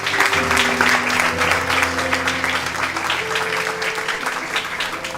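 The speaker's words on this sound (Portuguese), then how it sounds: "Uma salva de palmas a esse Deus." A church congregation applauds in praise during an online Christian worship service, a dense, steady wash of clapping across the whole stretch, with sustained music tones underneath.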